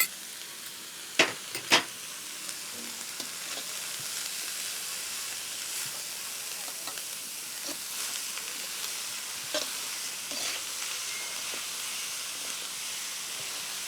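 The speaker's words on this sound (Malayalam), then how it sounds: "ഇത് നല്ലൊരു ബ്രൗൺ നിറം ആകുന്നിടം വരെ വഴറ്റണം" Onions sautéing in a pan until brown, a steady close sizzling hiss with a couple of sharp clatters near the start and occasional soft scrapes of stirring, no voices.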